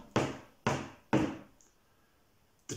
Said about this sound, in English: The door bangs behind you when you walk in.